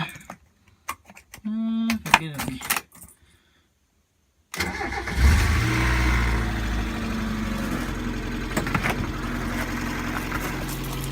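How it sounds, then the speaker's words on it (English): A Mazda Miata engine cranks and catches after a few seconds of quiet clicking, then settles into a steady, loud idle that runs on to the end. "Not only is it running, but it's running well, and it's got a good idle to it"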